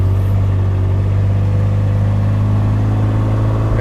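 A vehicle hauls a trailer load of whiskey barrels on a farm, its engine a loud, steady low drone with a constant rumble, close by and unbroken throughout.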